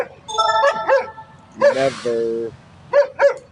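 Dogs bark near the microphone in loud, sharp bursts, a few yips and longer barks grouped together. Someone speaks briefly among them.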